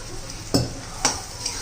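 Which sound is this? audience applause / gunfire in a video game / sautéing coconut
sautéing coconut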